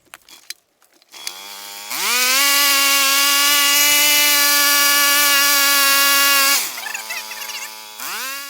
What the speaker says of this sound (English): The auger definitely isn't the easiest thing to control.